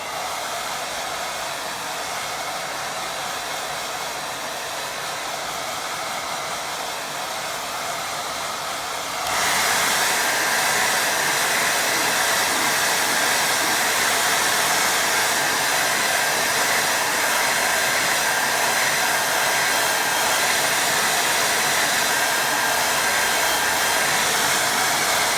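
A hair dryer blasts steadily to dry a watercolour glaze, starting as a softer hum and jumping to a louder, harsher roar partway through, then running continuously on its own without talk.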